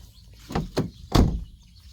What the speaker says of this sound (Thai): ประตูจะกึบกึบดีนะครับ